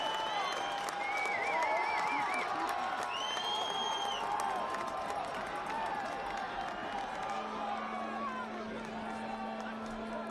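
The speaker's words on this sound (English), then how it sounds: "He's getting applause from the fans here." Soccer stadium crowd at a Monterey Bay F.C. vs New Mexico United match applauding the goalkeeper: a steady, fairly distant wash of clapping and crowd noise with scattered whistle-like tones, continuous throughout.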